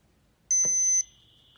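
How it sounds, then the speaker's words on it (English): An Abode home security system alarm sounds one loud, steady high-pitched electronic tone for about half a second. A brief knock is heard under it, and then the tone cuts off. "Hear the alarm."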